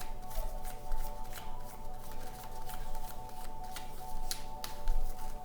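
Tarot cards shuffled by hand during a Sagittarius reading, a steady dense riffling and flicking that runs continuously with sharp slaps now and then, close and fairly soft, with no talk.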